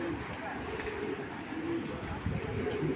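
Fancy pigeons coo softly in a loft, low repeated throaty calls over light background noise with no clear talking.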